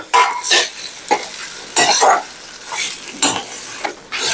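Ground dal paste stirred into softened onions in a pan for paruppu urundai, with repeated loud scraping and clattering strokes of a spoon against the pan over a light sizzle, no talk.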